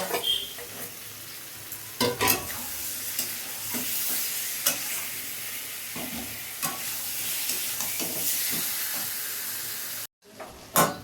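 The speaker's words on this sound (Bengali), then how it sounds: "এবার ম্যাগনেট করা চিকেনগুলো দিয়ে দেবো, এটাকে ভালো করে কষাবো।" Marinated chicken is sautéed in a spice masala in a pan. A continuous close sizzle is broken by regular scraping thumps of a spatula, with a brief cut to silence near the end and no one talking.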